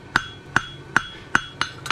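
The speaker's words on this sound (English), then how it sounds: "forging square on the horn with my hammer to take out some of those lumpy bumps" Six sharp metallic hammer strikes ring out on an anvil horn while a barshoe horseshoe is forged square, evenly spaced at a steady rhythm, close and clear with no talking.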